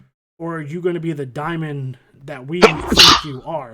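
A single sharp sneeze bursts out mid-conversation, loud and close, surrounded by ongoing talk from a voice before and after.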